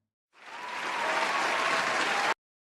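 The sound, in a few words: short applause sound effect on live stream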